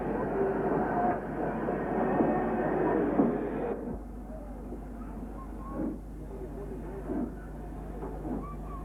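An LMS Black 5 steam locomotive shunts at Connell Ferry Station, a rumbling rail sound that is loud at first and then settles into quieter clanks and soft chuffs at medium distance.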